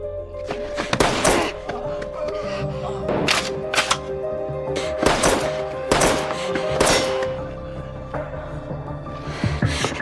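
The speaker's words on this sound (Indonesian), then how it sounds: "ia pun harus kembali berhadapan dengan Nana yang mencoba menembaknya dari kejauhan." Pistol shots ring out in a film action scene, several sharp loud bangs spaced irregularly over a humming background score.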